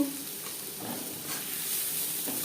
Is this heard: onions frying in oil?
yes